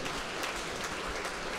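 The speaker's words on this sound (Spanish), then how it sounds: "vamos a darle un aplauso a él como cabeza" Congregation applauding in a church gathering, a short, faint wash of dense clapping, steady throughout with occasional louder claps poking through.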